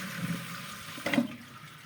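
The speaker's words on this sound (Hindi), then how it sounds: "हाफ फ्लश को मैं थोड़ा सा दबा देता हूँ" Pressing the half-flush button on a toilet lets water drain briefly with a soft, fairly faint whoosh and gurgle, plus a small click partway through. No one talks.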